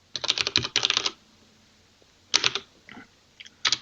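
Quick bursts of clicky computer keyboard typing, close and crisp, come in two rapid runs, then a pause and a few shorter clusters of keystrokes, with no voices.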